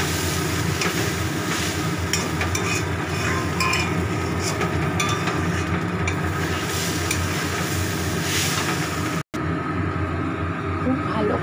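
Rice and lentils being sautéed in a pan until dry and crumbly: a steady, dense sizzle with stirring scrapes running close and loud, broken by a brief cut near the end before it carries on.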